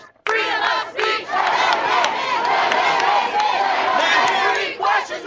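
Hundreds of people chant in unison at a rally outside a gymnasium, a loud, dense crowd roar with rhythmic shouted phrases that runs almost the whole time.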